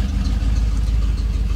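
A 1995 Ford F-150 4x4 pickup engine idles steadily with a broken exhaust, giving a loud, continuous low rumble with no voices over it.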